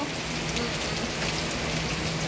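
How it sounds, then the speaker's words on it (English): Golf-ball-size hail pounds a car in Helena, Arkansas, a dense, unbroken roar of impacts on the roof and windshield, loud and close, with no speech. "Oh my god, it's hail!"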